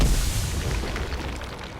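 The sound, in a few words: explosion of a creature dying in video game Pillars of Eternity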